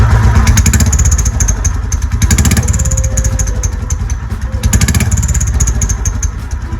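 An old Royal Enfield Bullet motorcycle with a turbo whistle fitted in its silencer runs loud and close, its thumping engine rising in revs twice, with a thin whistle tone rising faintly over the exhaust.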